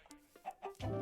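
Minecraft chickens cluck in a short run of clipped, close clucks that build to a louder squawk at the end, with no talking.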